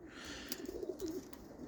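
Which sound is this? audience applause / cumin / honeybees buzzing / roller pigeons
roller pigeons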